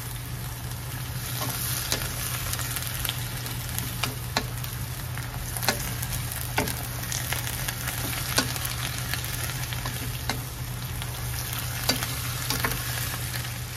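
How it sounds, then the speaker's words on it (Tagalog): String beans sizzle and fry in soy sauce in a pan, a continuous crackling hiss broken by sharp periodic ticks and scrapes from stirring, with no talking. "Ayan, iluto na natin ng konti sa toyo."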